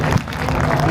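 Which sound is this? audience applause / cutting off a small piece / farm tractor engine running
audience applause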